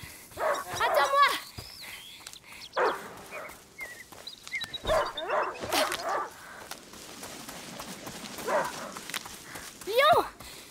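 A hunting dog named Lion barks several times in A Plague Tale: Innocence, the sharp barks bursting out at intervals amid outdoor ambience, with faint game dialogue around them.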